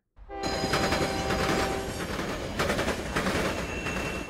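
A train rumbles past up close, a loud, steady rattling roar with a faint high tone running through it.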